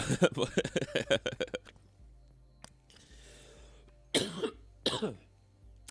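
A rapid fit of coughing, close to the microphone, followed after a pause by two more separate, harsh coughs.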